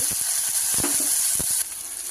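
Steady, close hiss of tomatoes sizzling in hot oil, with a few soft clinks and stirring knocks over it.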